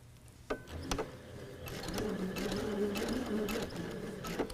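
A domestic sewing machine runs a seam on a kaleidoscope quilt block. After a few clicks at the start, a steady humming motor and a rapid needle rhythm follow, close and unbroken.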